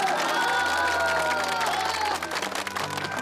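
Crowd applauding at a village citrus picking festival as officials are welcomed, a continuous wash of clapping and cheering over a sustained musical tone, fairly loud and full.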